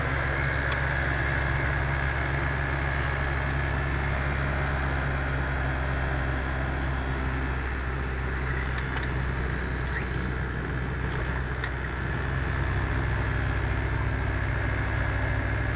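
A 1985 Dodge Aries drives home from a car wash, its engine humming in a steady low drone with road noise heard from inside the cabin, a few faint clicks along the way and no talking.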